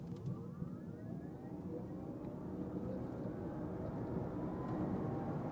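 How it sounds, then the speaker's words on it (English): An Audi Q8 e-tron 55 electric SUV accelerating hard from 0 to 100 km/h, heard as a steady rising whine over heavy road and wind roar that swells continuously for several seconds, loud and close, with no talking. "That was 0 to 100 kilometers an hour or 60 miles an hour with the 55 model."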